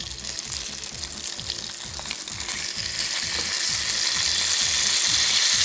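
Herring fries with vegetables in a pan, a steady close sizzle and crackle that grows slightly louder over a rhythmic low mechanical ticking.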